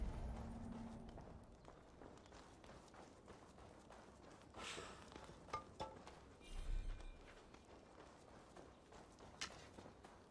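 Horse hooves clip-clop on the ground in the Assassin's Creed Valhalla video game, a faint, steady walking rhythm under ambient game sound, with a few louder thumps and bursts.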